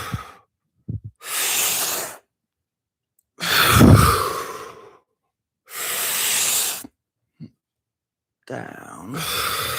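Deep, audible breaths during a fascia-focused stretching and movement exercise, long airy inhales and exhales recurring in a slow rhythm, close and fairly loud, with a brief voiced sound between breaths and no speech.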